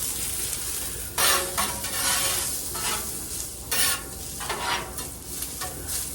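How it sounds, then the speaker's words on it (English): Smash burgers and onions cooking on a Blackstone griddle: a constant bright sizzle broken by several loud metal spatula scrapes and pushes, close and alone with no talking. "I'm going to do a couple of smash burgers here"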